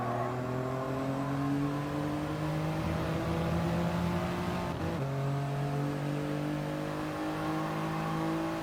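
A Toyota GR Yaris race car engine drones loudly at Fuji in Gran Turismo, holding a sustained high rev with a steady climbing pitch. A brief gear shift cuts in partway through before the engine pulls again, with no voices.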